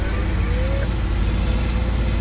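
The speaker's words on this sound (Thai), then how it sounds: "เร่งเครื่องเลยดิ" Engine of a purple dump truck in a farming simulator game, a continuous low rumbling drone held at an even, loud level throughout with no pauses.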